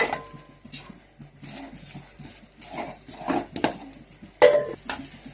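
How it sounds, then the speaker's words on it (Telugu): Grated coconut stirred and roasted in packet ghee in a pan, scattered scraping and clinking of a spoon against metal in irregular bursts, close and fairly quiet. "కొబ్బరి దీంట్లో వేసి వేయించుకోవాలి దూరగా"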